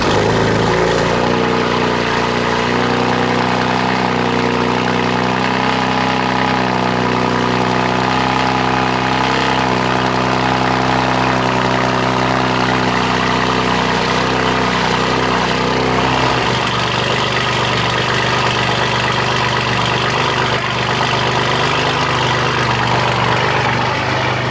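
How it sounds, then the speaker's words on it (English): A straight-piped BMW M4 exhaust idling, a loud, steady, deep burble with a droning low hum that holds evenly throughout and shifts tone slightly partway through, with no talking. "we'll hear an exhaust clip"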